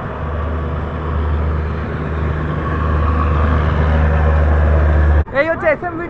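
An SMVT Bengaluru express passes close by a stopped train in rain, a loud, steady rumbling hum that cuts off abruptly near the end, when a person starts speaking.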